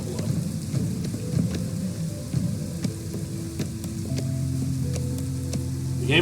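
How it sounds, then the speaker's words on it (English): Steady drizzle rain from the strategy game Against the Storm patters continuously under light clicks and soft tonal game sounds, with no one talking. "You've got drizzle, which is, yes, it's raining, nobody cares too much."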